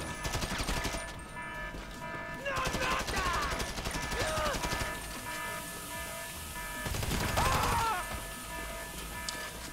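Explosions and gunfire roar through a Grand Theft Auto V bank heist mission, a dense, loud, continuous barrage with heavier bursts near the start and end, layered over game music, with someone talking over parts of it.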